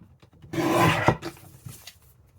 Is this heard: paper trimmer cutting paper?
yes